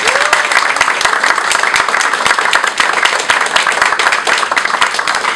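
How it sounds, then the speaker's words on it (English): A crowd at the Queens Borough Hall Pride Awards claps loudly and continuously for Councilmember Jimmy Van Bremer, a dense, even roar of close hand claps throughout. "Let's give him a round of applause."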